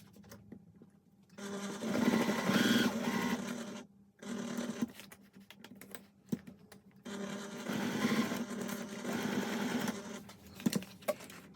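A sewing machine stitches a cotton wallet in two long, steady bursts of rapid close mechanical whirring, separated by a short pause filled with faint handling clicks.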